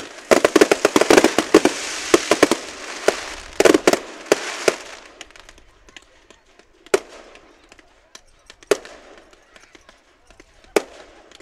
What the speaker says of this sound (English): fireworks are a whole lot more fun when you won